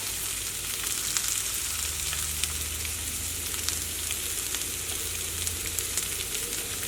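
Steady, close sizzling of garlic frying in hot oil, a continuous crackling hiss with a low hum underneath and no voices.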